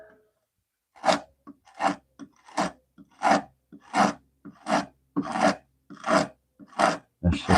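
A Stanley No. 4 hand plane iron is rubbed on 80 grit abrasive in about ten separate gritty rasping strokes, evenly spaced and close up, with short silent gaps between them.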